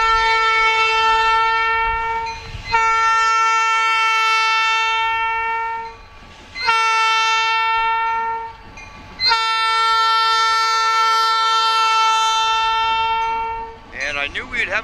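A locomotive horn blows several long, loud, harmonically rich blasts with short gaps as a freight train with locomotives rolls on rails, the wheel rumble underneath, ending in a brief noisy burst.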